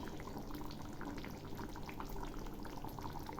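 Bengali jackfruit kofta curry with garam masala bubbles in a pot, a faint, steady low gurgle of boiling with small pops throughout. No voices.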